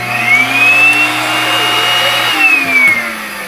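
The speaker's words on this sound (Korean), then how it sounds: "이제 쌓여 있는 먼지도 이렇게 브러쉬를 넣어서 청소기로" A vacuum cleaner with a brush attachment pulls dust out of a desktop computer's case near the graphics card slot, a loud, steady motor whine with a high pitched hiss that shifts slightly as the nozzle moves.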